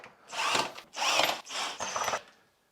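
A power drill backing screws out of a wooden table, close and fairly quiet, running in four short whirring bursts with brief pauses between them.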